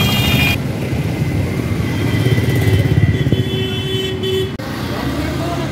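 A repaired motorcycle engine runs steadily at close range with a rough, buzzing tone. Road noise sits underneath, and a brief toot-like tone and a short dip in level come near the end.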